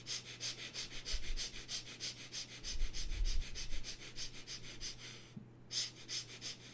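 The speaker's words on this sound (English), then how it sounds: "Quick, short and gentle breathing from the rib cage." Quick, short, gentle rhythmic breaths drawn from the rib cage in a breathing exercise, a steady series of soft sniff-like inhalations and exhalations close to the listener, with a brief pause near the end.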